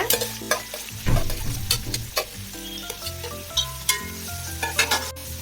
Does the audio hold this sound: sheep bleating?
no